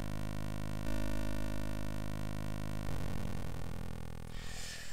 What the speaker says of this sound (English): And I've used a really gritty sounding pulse wave